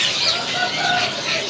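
A brief burst of high-pitched chirping and peeping from China chicken chicks at a bird market, busy and overlapping, fairly close.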